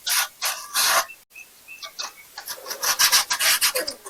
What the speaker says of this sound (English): But yeah, we'll just sand, rough it up.